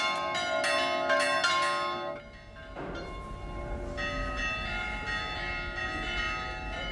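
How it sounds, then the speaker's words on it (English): Church bells toll in a village on Cyprus, ringing bright, resonant strikes with long ringing tails. A brief pause comes before the clear, sustained pealing resumes. "The tolling of the bells calls the whole community together."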